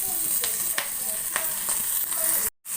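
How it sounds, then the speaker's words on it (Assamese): Chopped onion sizzles steadily in a hot pan for Maggi noodles, a dense, continuous frying hiss with faint clicks of stirring, briefly cut off near the end. "এতিয়া মই ইয়াতে পিঁয়াজটো পেলাই দিছোঁ।"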